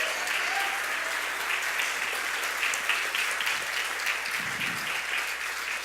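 Congregation at an evening church service clapping together, a dense, steady crowd applause heard alone and holding at an even level for several seconds.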